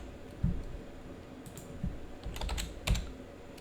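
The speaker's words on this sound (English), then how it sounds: "I'm just gonna type this out" Typing on a computer keyboard, with a handful of scattered key clicks and a few louder, sharper strikes spaced irregularly across a quiet room, no voices.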